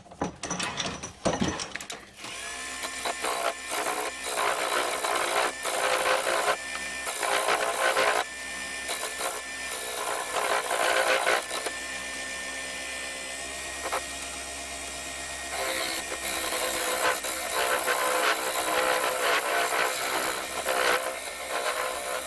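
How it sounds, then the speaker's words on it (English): A square-tipped carbide cutter working a small oak bowl held in a lathe chuck, giving a steady, loud whirring scrape with rattling mechanical texture for the whole stretch, no talk. "I'm just using the square tipped carbide cutter at the moment."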